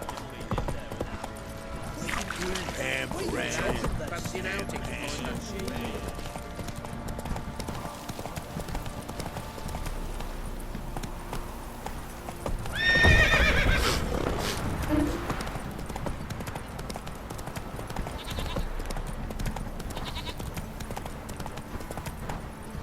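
Geralt's horse Roach gallops in The Witcher video game, with steady clip-clop hoofbeats running throughout, a whinny and a louder burst partway through, set against game music and ambience.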